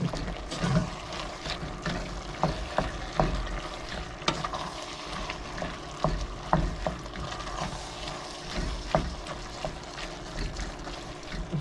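Ground turkey and vegetables with garlic fry in a pan, a soft, steady sizzle under repeated scraping and stirring strokes of a utensil, heard close up with no one talking.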